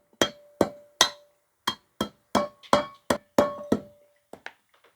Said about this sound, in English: Okay, now you just get a little rubber mallet. You're just going to beat that green cap right in there until it's flat.